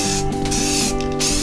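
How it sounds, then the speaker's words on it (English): Aerosol spray paint can giving a short test spray onto grass: a steady close hiss with two brief breaks in the flow, loud and alone without any talk. "I'm going to do a cheeky little test spray on the grass"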